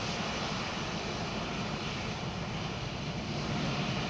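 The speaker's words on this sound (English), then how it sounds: "That was a really delightful spool up that." At Edinburgh Airport, an aircraft engine spools up into a loud, steady, broadband roar with a deep rumble that holds evenly throughout, heard at close range with no voices.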